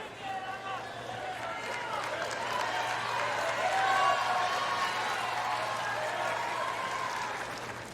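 A tennis crowd at a 2024 US Open doubles quarterfinal bursts into loud applause and cheering, swelling to a peak mid-way and then tapering off.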